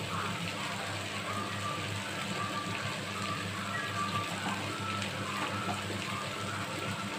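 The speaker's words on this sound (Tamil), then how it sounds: "சுடு தண்ணி ஊற்றுறேன். நல்லா வேகட்டும்." Hot water poured onto vegetables cooking for a hotel-style veg kurma, a steady hissing, splashing wash running unbroken at close range with no talk over it.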